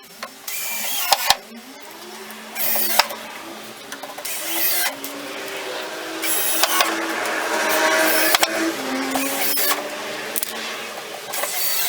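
A power tool drives fasteners to attach an MDF front fence to a large cross-cut sled in a woodworking shop, with several short whirring bursts and bangs close by over steady background noise.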